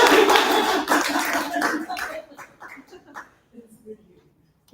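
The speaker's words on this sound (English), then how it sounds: "Clap the whole way, and clap the whole time" An audience at a lunchtime pitch event claps steadily and loudly, then the applause thins out and fades to scattered claps and near silence, with a voice speaking over it.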